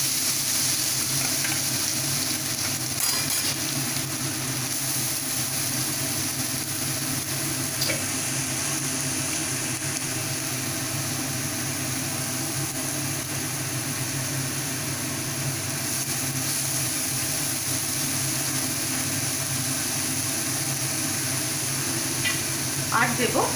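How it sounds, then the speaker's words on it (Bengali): Grated carrots frying in a pan with green chillies in a Bengali winter-vegetable dish, a steady continuous sizzle throughout, close and moderately loud, with faint clinks of stirring. "এবারে আমি এর মধ্যে দিয়ে দেব কোরানো গাজরগুলো।"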